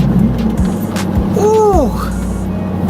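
A Nissan 350Z engine holds a steady low drone through a shift into second gear, with brief dips at each change and the revs sweeping up again, close and continuous inside the car.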